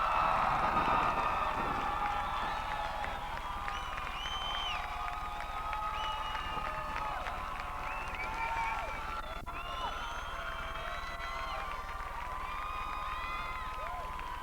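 A large graduation audience at Cortland State in 1995 applauds parents and spouses, producing a dense, sustained wash of clapping with scattered cheers and whistles that slowly eases off while staying loud.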